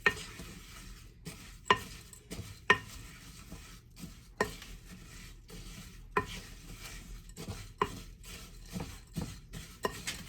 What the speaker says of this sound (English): just grab a nice wooden spoon. Wooden spoons are always a good idea, and you're just gonna stir it